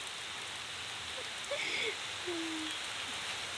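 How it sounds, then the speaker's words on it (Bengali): Steady rain falls over a Bengal village, a soft continuous hiss, with a few faint voices or bird-like calls briefly audible in the background. "মাঝে মাঝে বৃষ্টি জোরে হচ্ছে, আবার মাঝে মাঝে থেমে যাচ্ছে।"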